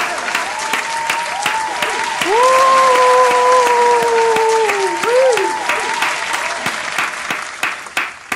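Steady hand clapping, sharp repeated claps in a fairly even rhythm up close, layered over a sustained sung or spoken voice in the background.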